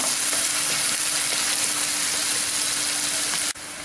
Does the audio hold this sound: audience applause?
no